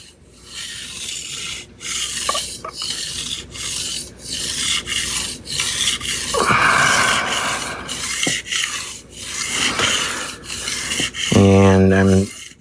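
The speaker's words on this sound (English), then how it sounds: "And I'm sharpening this part first" Kitchen knife drawn across a sharpening stone, giving repeated close gritty rasping strokes at an uneven rhythm, with a brighter scraping burst near the end.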